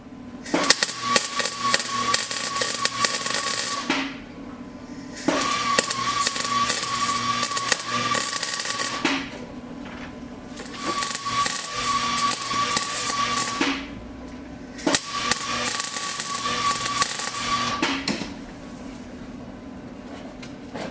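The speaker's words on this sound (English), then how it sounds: "I'll go ahead and finish welding it." Metal repair on a rugged old machine, with long spells of steady buzzing, crackling welding broken by short pauses, repeated about four times, loud and close.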